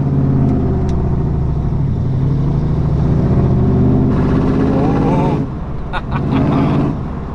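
A Ford Mustang, V8 or V6, accelerates with a loud, throaty engine note that climbs through the revs, rising steadily before easing off, while a voice briefly speaks over it near the end.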